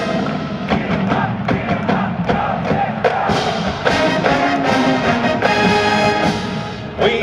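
Fans of the University of Akron marching band cheer and shout together at a friends-and-family performance, a loud, continuous crowd roar with yells and scattered thumps.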